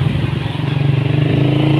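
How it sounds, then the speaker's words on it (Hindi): A motorcycle being ridden gives a loud, close, steady engine drone with a fast rhythmic pulsing throb, carrying a passenger, with no speech over it. "ये बिलाल बाइक चला रहा है"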